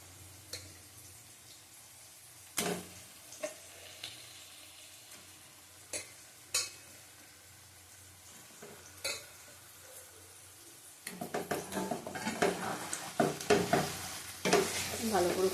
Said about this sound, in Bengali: মশলাটা কষানো হয়ে গেছে, মাংসটা দিয়ে দেবো এবার, নুন হলুদ দিয়ে মাখানো।